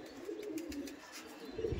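Madrasi Kalshira pigeon giving a low, soft coo, brief and faint, close by with no talk.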